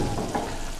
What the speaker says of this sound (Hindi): अब हम ये जो इसमें तड़का लगाया हम इसमें शामिल करते हैं।